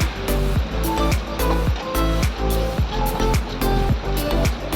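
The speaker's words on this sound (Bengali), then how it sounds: "এরপরে তেলের মধ্যে আমি দইটাকে ছেড়ে দেবো" Whisked yogurt hits hot oil in a pan for a vegetarian paneer dish, giving a loud, close, bubbling sizzle broken by rhythmic scraping knocks as it is stirred. No one talks.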